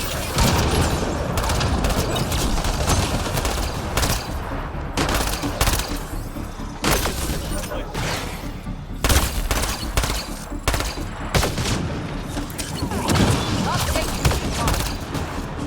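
Dense, sustained gunfire from a firefight in the sci-fi shooter Mass Effect Andromeda, rapid bursts and booming impacts crowding together with only brief lulls, loud throughout.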